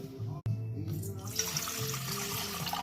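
Lukewarm water pours into a bowl on a kitchen scale while mixing sourdough, a steady close splashing stream running nearly three seconds after a brief click.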